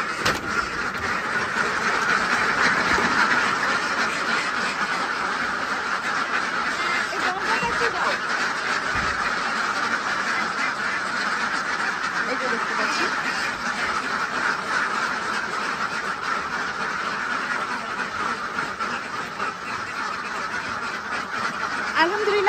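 A crowd of farm ducks quacks continuously inside an enclosed duck house, a dense, steady chorus of overlapping calls filling the space at close range with no pauses.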